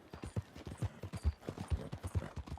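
Horse hooves clip-clop at a steady walking rhythm in Red Dead Redemption 2, a long run of even, fairly close hoof beats on hard ground, with no talking over them.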